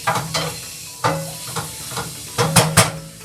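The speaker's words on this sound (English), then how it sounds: "So we'll add the rest of these onions. Turn the fire up a little bit more" Onions hitting a hot pan for a mushroom pasta, with the heat turned up to caramelize them, give a close sizzle and hiss broken by several sharp stirring and scraping bursts.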